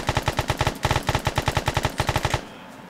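Rapid sustained bursts of M249 light machine gun fire in the video game DayZ, loud and close, with a brief pause mid-stream before the firing cuts off.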